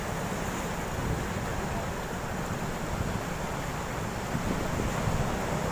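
Strong wind and surf at a seaside beach at sunset, a steady roaring wash of waves with gusting wind buffeting the microphone throughout, loud and continuous with no clear voices.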